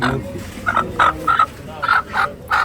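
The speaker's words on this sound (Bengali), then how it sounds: "ওটা মুরগি" Short bursts of a chicken's clucking calls, close and fairly loud, repeating in an uneven rhythm over a low background murmur at a village market.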